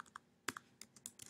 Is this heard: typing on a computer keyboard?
yes